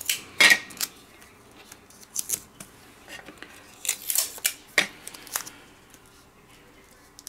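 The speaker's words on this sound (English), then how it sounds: "So I'm going to put another piece of tape over here too." Adhesive tape is pulled off a roll and pressed down to hold a die and crochet lace gift bag pattern in place for a Tonic Studios die-cutting job, giving a few quiet crackling rips and soft taps close by.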